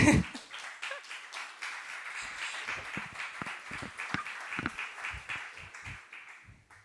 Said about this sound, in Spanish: si queréis aplaudir, aplaudid